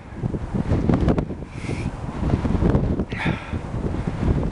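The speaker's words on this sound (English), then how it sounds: "It's so windy and it's starting to rain" Strong wind buffets the microphone in heavy, uneven gusts, rumbling low and constant with brief hissing swells, no voices.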